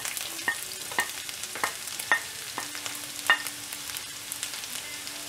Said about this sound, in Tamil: எண்ணெய் காஞ்ச உடனே இதில் சின்ன சின்னதாக கட் பண்ணி வச்சுருக்கிற பூண்டு ஆட் பண்ணிடலாம்